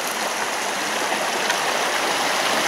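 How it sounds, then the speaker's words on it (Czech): A mountain stream, a tributary of the Morava river near its source below Králický Sněžník, rushes and splashes in a steady, close, full wash of water with no other sounds. "Jeden z přítoků řeky Moravy."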